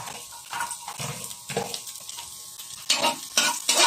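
Garlic dropped into very hot cooking oil for kare-kare, sizzling and crackling in bursts that swell louder toward the end, close and alone with no voices.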